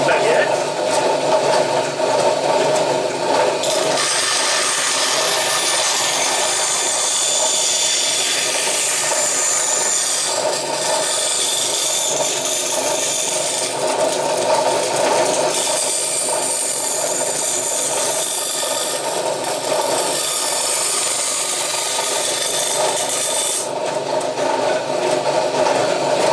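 A table band saw rips a thin strip from a wooden plank, its steady high-pitched cutting whine running continuously and loud, with the blade sound shifting in intensity as the wood feeds through.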